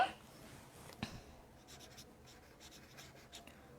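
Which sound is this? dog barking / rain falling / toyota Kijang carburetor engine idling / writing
writing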